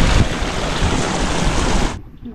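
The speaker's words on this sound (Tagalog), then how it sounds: "Bubog, lakas po ng tubig, oh." Strong floodwater rushing along a swollen river, a loud broadband roar of churning water close by, sustained for about two seconds before cutting off abruptly.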